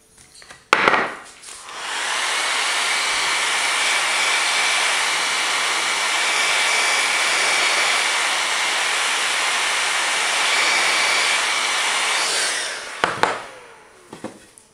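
Steady broadband blowing hiss of a heat gun reheating a PVC pipe, running loud and even for about eleven seconds between brief clicks at start and end.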